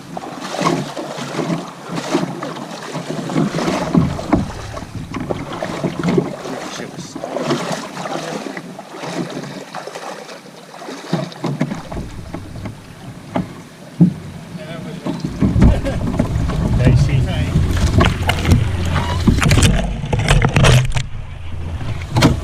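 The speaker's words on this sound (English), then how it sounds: "we're just paddling down the East Wanapitei" Canoe paddled down the East Wanapitei River on a sunny day, with soft water sloshing and dipping strokes over wind noise, rising to a steadier rumbling wash in the last seconds; no talk.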